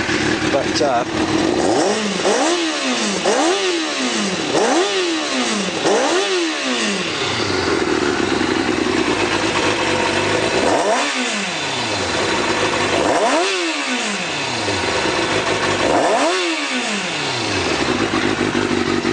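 A 2007 Kawasaki ZZR 600 track day bike runs loud and close, its engine revved repeatedly in rising and falling sweeps, with shorter quick blips early on and longer spaced revs later, idling steadily between them.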